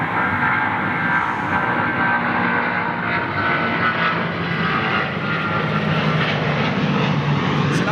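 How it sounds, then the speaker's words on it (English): An American Airlines Boeing 777 departs Heathrow under a low cloud base, a loud continuous engine roar sustained throughout, with no talk. "American Airlines 777, here we go."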